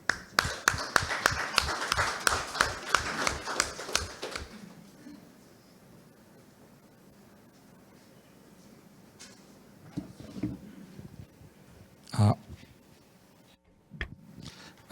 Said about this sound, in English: Choi a warm round of applause.